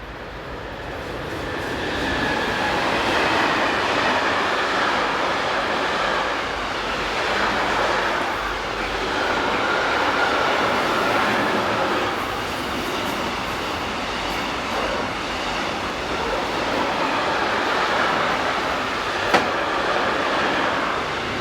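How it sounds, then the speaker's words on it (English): A class 185 electric locomotive hauls a southbound intermodal freight train through Oberwesel in the Rhine Gorge, a steady sustained rumble and rolling wagon noise that holds at full strength throughout, with faint clickety-clack and no voices. "One 85284 is next to come into view with a southbound intermodal."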